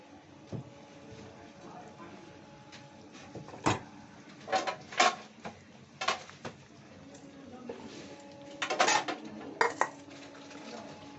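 Fish roe fritters are placed one by one into a pan of simmering curry, marked by a series of sharp spoon-on-pan clinks and clatters over a soft, steady background hiss.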